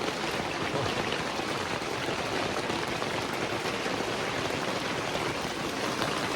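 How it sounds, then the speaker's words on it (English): Heavy rain pours steadily at an off-grid camp, a dense, unbroken hiss of water hitting surfaces that stays loud and even throughout with no voices. "I'm sure you can tell by the sound that it is raining."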